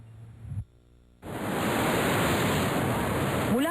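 Rushing water of the Edet River on Mount Pulag, a loud, steady broadband roar close to the microphone that drops briefly early on, then surges back and holds without a break.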